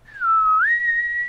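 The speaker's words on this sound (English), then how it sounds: "I'm just gonna whistle something weird and ominous" A person whistles a short eerie tune, a single clear tone that dips then slides upward and holds, close and loud in a quiet room.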